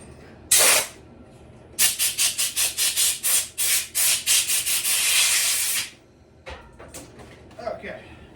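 Compressed air blasts off a Homelite chainsaw part in a workshop, one short burst followed by a rapid series of loud hissing puffs that merge into a sustained blow, then quiet handling noises.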